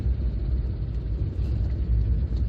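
A 1992 Proton 1.3 GL saloon (Saga Megavalve) fitted with a 1.5 engine cruises on the road, heard as a steady, continuous low engine and road rumble from inside the car with no talking.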